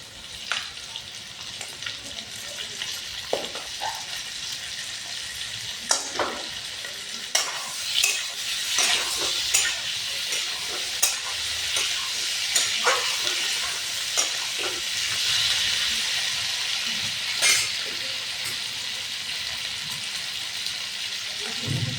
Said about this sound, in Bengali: আলু একটু পেঁয়াজের সাথে ভেজে একটু ভাজা হবে।